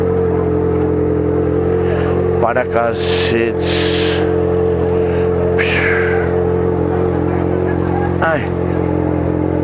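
Yamaha XJ6 motorcycle, fluorescent pink, idling and riding through night city traffic on Rua Augusta, a steady engine drone running throughout with a voice briefly over it.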